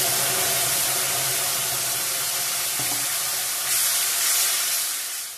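Ginger and tomato paste land in a hot pan for aloo paneer, a loud, broad sizzling hiss that holds steady, swells briefly near the end, then begins to fade.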